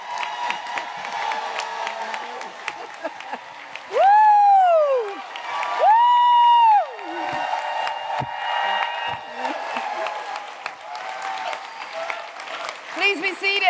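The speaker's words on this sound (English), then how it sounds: "Another round of applause." Audience at an Attorney General's community hearing in Westchester breaks into applause and cheering, a loud sustained wash of clapping under amplified speech that swells to two strong peaks, then fades as talk continues.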